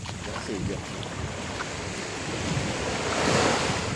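Ocean waves roll and crash onto the shore in Morong, Bataan continuously, a full rushing wash that swells louder near the end, with wind buffeting the microphone.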